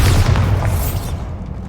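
A single heavy boom from the Bombarda blast spell in Hogwarts Legacy, loud at first and then rumbling away over about a second.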